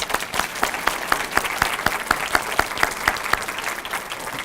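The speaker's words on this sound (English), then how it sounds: "Let's give her another round of applause." Applause at a statue dedication ceremony, a smaller crowd whose individual claps stand out as distinct sharp hits in a steady rhythm, clear and close throughout.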